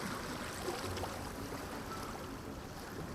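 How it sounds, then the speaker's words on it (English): Waves rocking a small boat in a video game scene, a continuous rushing, sloshing water wash with no clear pauses, steady and moderately soft throughout. "The waves violently rock our small boat."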